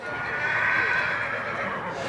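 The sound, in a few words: horse neighing at a livestock auction horse sale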